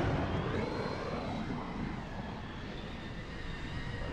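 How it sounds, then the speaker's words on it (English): A jet aircraft in MechWarrior Living Legends comes in to land with a steady rushing engine roar and a faint whine that stay even throughout. "the plane is allowed to land"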